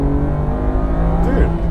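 A 2019 BMW M2 Competition accelerates hard, its engine droning loud and continuous from inside the cabin, with a brief rising sweep toward the end and a voice talking over it.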